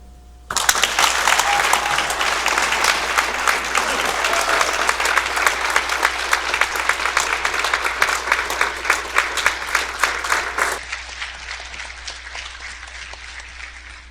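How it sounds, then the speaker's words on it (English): An audience at a school district Hall of Distinction induction ceremony breaks into loud, sustained applause for about ten seconds, then it thins out and fades to scattered claps. "one more round of applause"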